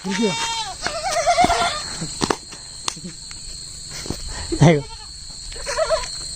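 Goats bleat in several short, wavering bursts close by, over a steady high-pitched insect drone.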